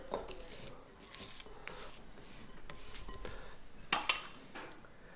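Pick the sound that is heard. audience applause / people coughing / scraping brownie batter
scraping brownie batter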